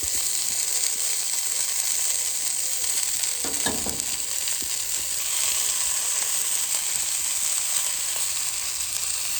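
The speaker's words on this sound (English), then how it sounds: "What I'm going to try and do is cook the sausages in 4 stages." Sausages sizzling on a Callow 4 burner plancha during its first cook, a loud, continuous frying hiss with a brief scrape partway through, no voices.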